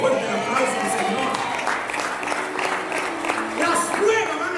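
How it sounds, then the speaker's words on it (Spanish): Congregation applauding in church during a Spanish-language sermon, with steady clapping running under voices and some tonal sound throughout. "Dale fuerte el aplauso al Señor"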